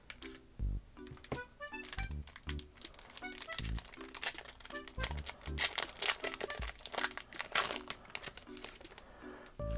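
A trading card booster pack wrapper crinkles and crunches under handling while scissors cut it open, giving repeated sharp crackles and snips close by, with no talking.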